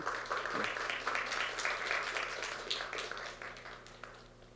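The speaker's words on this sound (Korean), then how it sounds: "우리 박수로 함께 해주시면 감사하겠습니다." A church congregation at a Sunday service applauds, a dense, steady wash of many hands clapping that gradually tapers off, with no talking over it.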